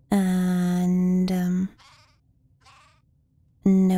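Sheep bleat in the video game Craft the World: two long, loud, nasal bleats close together, a short quiet gap, then another bleat at the end.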